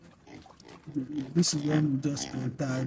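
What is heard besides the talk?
pigs oinking on a pig farm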